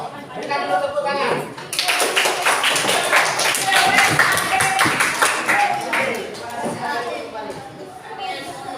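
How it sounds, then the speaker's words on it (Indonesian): Students clapping in a classroom group-discussion lesson. Rapid, close hand claps begin after a short stretch of talk and run for several seconds, then fade back into voices and chatter. "Berikan dulu tepuk tangan."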